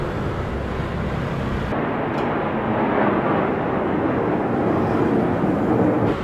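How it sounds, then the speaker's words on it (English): A fighter jet flies over Taiwan, its loud, steady broadband roar filling the air and swelling slightly as it passes, with no voices over it. "There goes another fighter jet."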